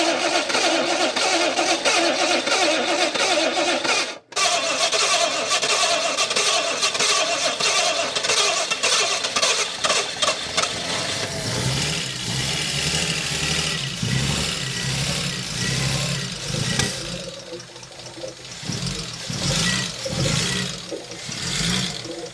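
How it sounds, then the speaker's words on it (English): An old car engine cranks and catches, then settles into a steady, loud idle that runs close by for most of the stretch, with a brief dropout early on. "Did you hear how smooth the engine was?"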